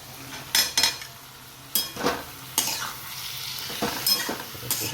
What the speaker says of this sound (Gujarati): બાકીનું શાક પણ આપણે નાખી મિક્સ કરી લઈએ.